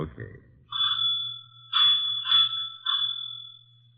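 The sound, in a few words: doorbell ringing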